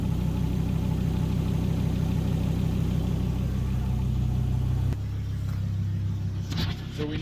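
A Volvo P2 five-cylinder engine idles steadily and close after an oil change, a smooth even hum that drops and changes as it is shut off near the end, with faint handling noises.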